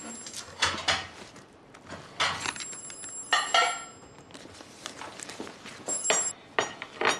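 A mobile phone rings from inside a bag in bright repeated electronic tones, partly muffled among rustling and handling noises, with short gaps between the rings.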